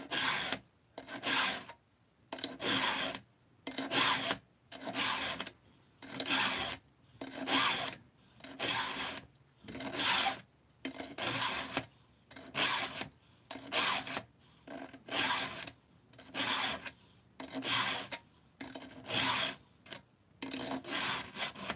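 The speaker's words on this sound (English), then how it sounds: "Filing is so tricky" A metal blade is filed by hand with a rasping file, giving about seventeen evenly spaced strokes in a steady back-and-forth rhythm, close up and fairly loud, with no voices.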